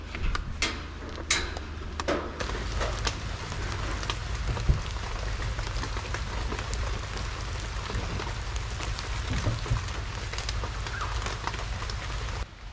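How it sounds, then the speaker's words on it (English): Steady rain falls in the Daintree rainforest in Queensland, a continuous close hiss of drops on leaves and surfaces with a few sharper patters near the start, and no voices. "Rain, go away."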